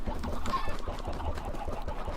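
Clucking chickens on a packed farm in a multiplayer video game server, several birds calling continuously at moderate loudness with no talking over them.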